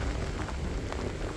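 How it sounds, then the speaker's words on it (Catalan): Steady rain falls outdoors on the first day of rain during a round-the-world walk, making a continuous, dense hiss with soft pattering, fairly close and with no voices. "ara ha començat a ploure de veritat"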